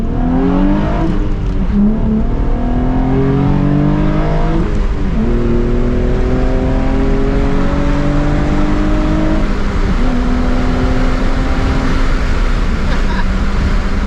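A Nissan 350Z RevUp engine revs and climbs through gears with a deep, gurgling exhaust note, loud and close, dropping and rising again several times.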